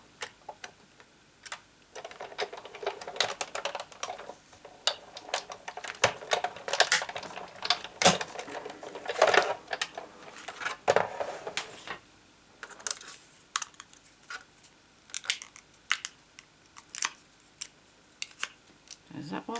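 Scissors cut through cardstock for a tri-fold card in a series of crisp snips and short bursts, fairly close, with pauses between cuts.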